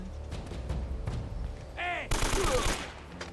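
Gunfire in the video game Uncharted, a burst of loud rapid shots close up after a quieter stretch of game sounds, with someone speaking briefly underneath.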